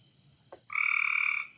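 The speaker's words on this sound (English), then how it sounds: "let's go catch this frog" Gray treefrog calling near a pool, a single close, loud trill lasting under a second after a brief click, alone without talk.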